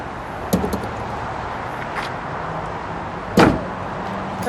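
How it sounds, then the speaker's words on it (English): A carbon fiber front hood on a 2016 Porsche 911 GT3 RS is lowered and shut, giving a light click early, then one solid thud of the lid closing over faint outdoor background noise. "Let's shut the non-existing engine compartment."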